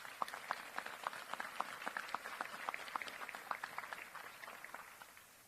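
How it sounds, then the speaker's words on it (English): Members of the Greensboro Fire Department receive applause from a crowd at a police academy graduation, with many hands clapping in a fairly distant, steady patter that gradually tapers off. "If you could, please give them a round of applause."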